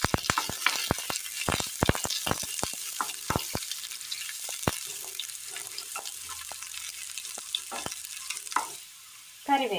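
Mustard seeds and chopped shallots fry in hot oil in a pan for a Kerala-style curry, with sharp popping crackles in bursts over a steady sizzle and occasional stirring, close and fairly loud with no voices.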